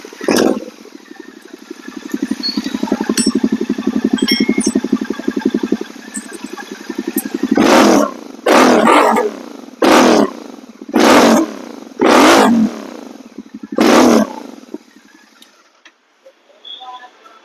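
A Royal Enfield GT 650 fitted with Red Rooster exhaust silencers idles with a throbbing burble, then revs hard in six loud, evenly spaced bursts before settling back, heard up close with no talk.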